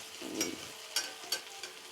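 Steady oil sizzling as sesame fritters fry, with soft crackles and a few brief spattering pops, close by, with no voices.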